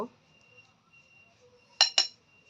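Metal spoon scooping potato filling into kulcha dough, two quick sharp clinks close together near the end after near silence.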